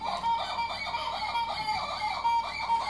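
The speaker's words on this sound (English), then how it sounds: "It's a squeaky toy." A squeaky toy squeaking repeatedly in a rhythmic series of short, bright, wheezy squeals at close range, moderately loud and steady throughout, with no voices.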